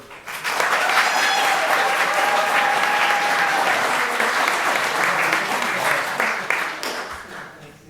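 Sustained applause from the audience at a city council meeting honoring a police officer's years of service, dense clapping rising quickly and holding steady for several seconds with faint voices mixed in.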